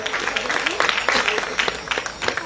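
A Christmas celebration congregation clapping, with steady rhythmic applause from a crowd and voices mixed in.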